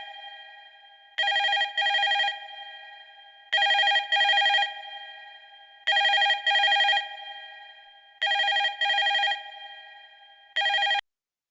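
Telephone ringtone in a Telugu TV serial scene, sounding alone in five evenly spaced bursts of paired warbling rings separated by quieter decaying tails, clear and close.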